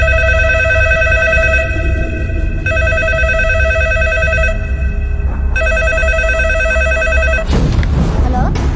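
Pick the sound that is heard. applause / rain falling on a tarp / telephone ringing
telephone ringing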